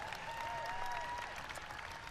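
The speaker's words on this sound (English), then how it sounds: "you can clap about being here" Outdoor crowd at a White House anniversary ceremony for the Americans with Disabilities Act claps briefly, a soft spread of applause in warm weather with a faint tonal whistle or voice running through it.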